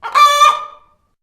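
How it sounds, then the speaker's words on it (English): A chicken gives a single loud, close squawking call lasting under a second, bright and honking, then cuts to silence. "A chicken? A chicken! Indeed, it is a chicken"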